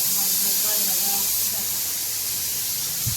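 A pressure cooker with potatoes inside lets out a loud, continuous hiss of steam that runs throughout, with voices faintly underneath at the start.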